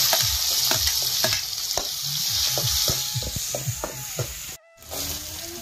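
Tomatoes tossed into hot oil with cumin, mustard seeds and curry leaves, sizzling steadily while a spoon scrapes and stirs in a quick rhythm, close and loud, with no talking.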